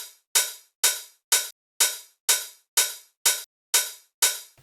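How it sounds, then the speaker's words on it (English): Hi-hat pattern from a beat remix plays alone with no talk: ten sharp, bright, evenly repeated hits, each decaying quickly, with a slightly uneven, bouncy spacing. "Probably the thing that's a bit out of the ordinary is these hi-hats."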